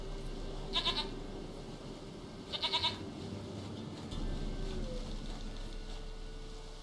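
Two distinct bleats from a goat in The Witcher 3, short quavering calls about two seconds apart, clear over quiet game ambience with no talking.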